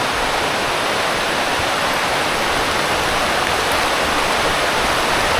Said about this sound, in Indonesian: Itu airnya cukup deras ya ngalirnya